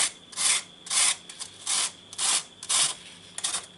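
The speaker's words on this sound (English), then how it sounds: "And just gently scrape it." A sweet short pastry tartlet edge is scraped smooth in short, even strokes, about seven dry rasping passes in a steady rhythm, close and fairly loud with brief quiet gaps between them.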